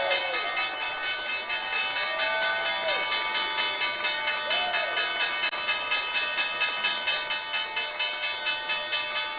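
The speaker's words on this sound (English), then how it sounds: "But for now, the closing bell." A stock exchange closing bell rings in rapid, continuous repeated strokes with a steady metallic ringing tone, loud and sustained for several seconds.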